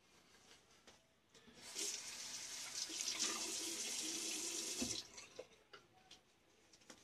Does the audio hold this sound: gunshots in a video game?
no